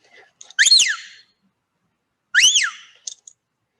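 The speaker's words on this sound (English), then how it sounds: "I'm going to use my whistle now." Two sharp, rising-and-falling whistle calls from a sheepdog handler's whistle command, each followed by short chirps, sounding clearly against silence with a pause between them.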